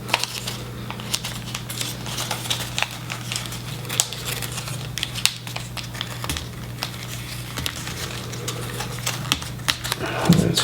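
Paper is creased and folded for a Jas Gripen paper airplane, with soft crinkles and sharp little taps over a steady low hum, close up and fairly quiet.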